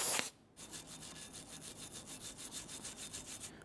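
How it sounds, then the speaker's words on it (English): Bristle brush scrubbing the contact points of a brake caliper bracket from the rear brakes of a 2011-2015 Kia Sorento, heard as quiet, close, rhythmic back-and-forth strokes after a brief sharp knock at the start. "We're cleaning up pretty good just using a bristle brush."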